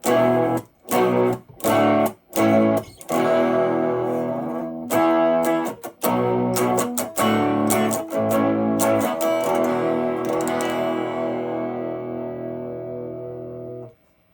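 Electric guitar on the bridge pickup, distorted by an amplifier circuit, plays choppy chords and riffs with gaps, then sustains a long fuzzy chord that rings out and fades to silence.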